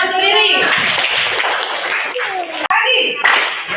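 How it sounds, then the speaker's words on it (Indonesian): A classroom of children claps together for a classmate in an Islamic religious education lesson on prayer; the steady, dense clapping runs throughout, mixed with children's voices and chatter, briefly cutting out near the end before resuming. "Ya, tepuk tangan tuh, Riri."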